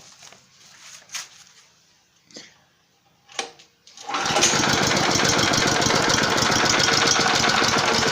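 A mobile welding machine's small engine is pulled to start after several faint knocks and handling sounds, then catches and runs loud, fast and rough with an uneven, rattling chatter for the rest of the clip.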